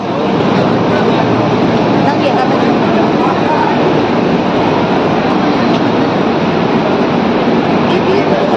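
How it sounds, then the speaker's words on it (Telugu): A metro train at Batu Caves station, the last stop on the line in Kuala Lumpur, produces a steady loud rumble and roar that runs without a break from start to finish. "ఇది లాస్ట్ స్టాప్, ఈ మెట్రోకి ఇది లాస్ట్ స్టాప్."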